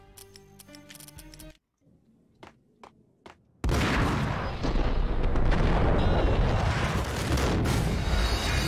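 Max Payne gunfire: a few sharp, isolated shots crack out over quiet, then a loud sustained barrage of heavy blasts and booms roars continuously, dense and close.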